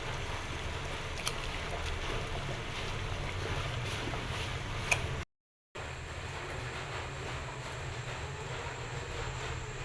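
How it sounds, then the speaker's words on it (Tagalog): Water at a rolling boil in a pot for making palitaw rice cakes, a steady, close rumbling hiss of bubbling that cuts out for a split second midway. "kumulo na po ang ating tubig"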